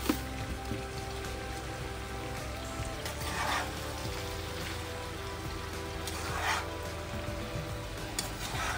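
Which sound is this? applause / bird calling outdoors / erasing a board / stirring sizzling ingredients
stirring sizzling ingredients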